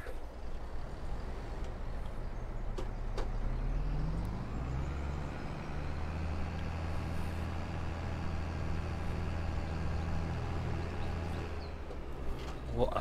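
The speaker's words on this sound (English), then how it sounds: "start the engine." A tractor engine in Farming Simulator 22 starts up around four seconds in, then settles into a steady, loud low idle hum that runs to the end, with a brief shutoff near the close.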